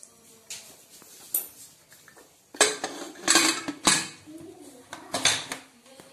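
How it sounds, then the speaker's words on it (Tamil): A metal pressure cooker lid is handled and closed over gram and water, giving a series of loud clattering clanks and scrapes that grow busier toward the end, close by with no talk. "இதை மூடி போட்டு வேக வச்சிடலாம்."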